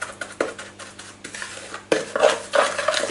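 A utensil scrapes and clinks against a pan while oil and chickpeas are stirred, with irregular knocks and scraping strokes up close and a faint sizzle beneath.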